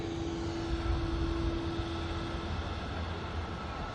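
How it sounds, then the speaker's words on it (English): A Singapore Airlines Airbus A350 taxis at Manchester Airport, its engines giving a steady, moderately distant roar with a faint tonal whine throughout. "Singapore Airbus A350"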